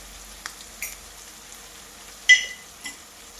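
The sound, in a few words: prawns mixed with pepper frying and stirred in a pan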